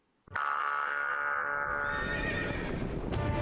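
A single loud horse neigh starts abruptly and holds as a long, sustained whinny, close and clear with no other sounds around it.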